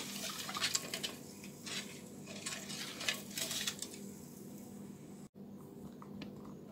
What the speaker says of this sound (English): I'm gonna mix again.